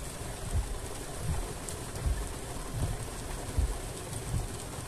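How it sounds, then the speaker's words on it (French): Steady rain patters and hisses over the body of an MG EHS Hybrid car, with soft low thumps recurring every half second or so beneath it. "comme il pleut"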